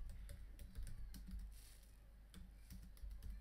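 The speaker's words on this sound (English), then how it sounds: "I would then type my options, wood pollution." Typing on a computer keyboard while entering quiz answer options, a quick run of light key clicks with short pauses, close and fairly quiet, no talking.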